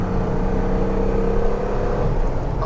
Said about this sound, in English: I'm going to go easy on this engine obviously because it is refurbished, so I'm not going to do too many high revs, but it is pulling well